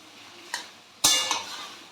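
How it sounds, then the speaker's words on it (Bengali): Fried hilsa fish heads broken up with a metal spatula in a pan of kochu shak, two sharp scraping knocks against the pan over a low sizzle, close and without talk. "এগুলোকে একটু খুন্তির সাহায্যে একটু ভেঙে দেবো,"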